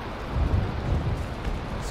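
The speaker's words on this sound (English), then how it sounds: "The storm is still going." A thunderstorm with rain rolls through the video game Valheim, low rumbling thunder over a steady rain hiss, continuous and fairly loud with no speech.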